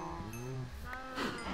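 Cattle in Minecraft give a couple of drawn-out, wavering moos, near and fairly loud, with the second call fuller and rising toward the end, alone with no talk.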